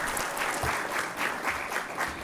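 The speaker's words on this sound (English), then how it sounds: "big round of applause to her." Audience applause at a university law school convocation ceremony, a dense continuous patter of many hands, moderately distant and even, with no talk over it.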